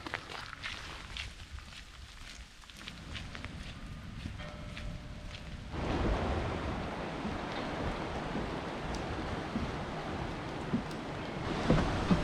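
Steady rain hissing on a coastal trail at Acadia National Park, quieter at first and then swelling into a dense, constant patter with faint footstep-like taps.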